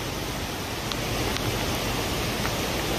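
A raging flooded creek in Santa Rosa, California, roaring with a loud, constant broadband rush of fast water, close and unbroken, with no voices.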